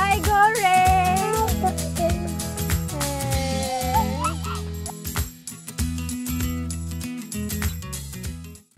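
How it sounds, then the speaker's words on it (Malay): Chickens clucking and calling at a vegetable farm in KL, close and fairly loud, with other birdlike honks mixed in and a busy, continuous texture throughout. "Okey, sekarang ni kita nak pergi tengok ayam pula."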